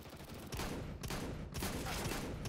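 Shotgun fire in Counter-Strike (CS:GO): three broad blasts roughly half a second apart, fairly quiet and set against a steady noisy game background, with no talking.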